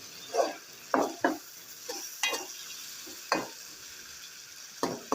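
Tomatoes and potatoes cooking in a pan for aloo anday, soft sizzling beneath a series of distinct scraping stirs, about eight strokes in uneven rhythm, close and moderately quiet, no speech.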